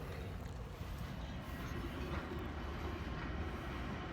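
Trains rolling down the line near a Norfolk Southern yard on a shortline railroad, a steady, continuous rumble of rail cars that holds close and fairly loud for the whole stretch, with no voices.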